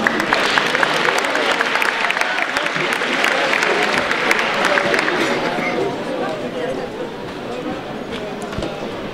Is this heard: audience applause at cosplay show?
yes